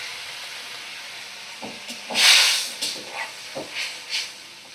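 Water poured into hot spice masala in a pan on the stove sets off a sharp burst of hissing, followed by a series of smaller sizzling spurts that die away.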